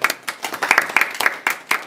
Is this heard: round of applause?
yes